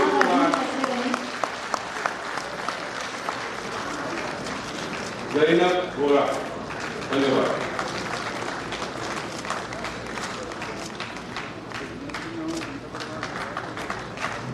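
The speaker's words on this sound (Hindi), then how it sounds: "कृपया तालियों से दीक्षार्थियों का उत्साहवर्धन करते रहें" An audience at a university convocation claps for graduates, a steady ripple of applause running under a voice announcing names, with a brief louder burst midway.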